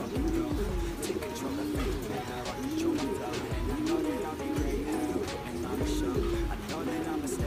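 Racing pigeons coo in repeated soft, rolling calls that come every second or so close by, over a steady background hum.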